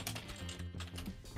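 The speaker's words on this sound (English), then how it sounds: "Don't mind what I'm typing right now." Rapid clicking of typing on a computer keyboard during a Valorant gaming session, steady and close throughout, over a low, sustained musical hum.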